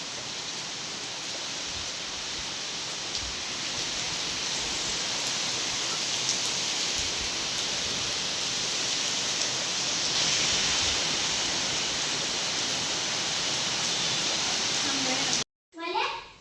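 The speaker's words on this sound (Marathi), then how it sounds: "चांगला धो पाऊस चालू झालाय." Heavy rain pours down in a steady, dense, close hiss that fills the scene without pause before cutting off near the end.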